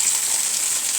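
A large spoonful of tomato paste hits a hot pan with garlic while sausage is being cooked, giving a steady, close, bright sizzling hiss for about a second.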